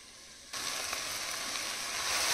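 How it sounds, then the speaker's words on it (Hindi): Carrots frying in a pan while being stirred, a soft hiss that abruptly swells into a steady sizzle with faint scraping, close and without speech. "गाजर को ऐसे भूनते हुए चलाते हुए इससे अच्छी खुशबू आती है"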